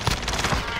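Burst of rapid automatic gunfire in a battle-royale style shooter video game, loud and dense, with a brief vocal exclamation mixed in.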